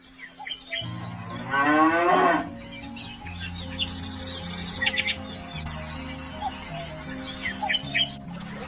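Cow in a cowshed letting out a long, loud moo up close, followed by lower lowing, with small birds chirping in the background throughout.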